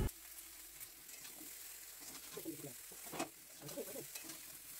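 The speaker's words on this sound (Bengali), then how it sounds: "ভালো করে এবার আমগুলো নেড়েচেড়ে ভেজে নেওয়া হবে।" Raw mango pieces with five-spice frying in oil, a quiet background sizzle broken by several scraping stirs and one sharper knock, heard up close.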